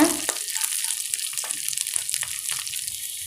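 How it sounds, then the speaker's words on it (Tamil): Onions sautéing with curry leaves and green chillies in hot oil give a steady close-up sizzle, broken by light scrapes and clatters from stirring, with no voices. "இப்போ நாம் கருவேப்பிலை சேர்த்துடலாம். கூடவே நாம் பச்சை மிளகாயும் சேர்த்துடலாங்க. நல்லா வதக்கிக்கோங்க."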